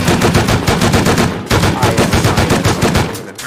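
An M2 machine gun fires in the survival video game Rust, loud rapid automatic bursts with a brief gap midway before the shooting resumes and then fades slightly.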